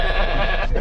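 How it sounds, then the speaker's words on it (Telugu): Goats on a road in Nellore bleat in a short, loud burst that fills the moment close by, with no talk over it. "రోడ్లోనూ మేకలు ఉన్నాయి."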